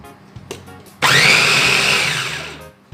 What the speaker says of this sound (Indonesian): Kita giling sebentar saja.